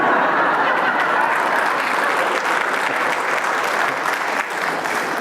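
Sustained, even applause from a lecture audience fills the whole stretch, a dense patter of many hands at moderate loudness with no speech over it.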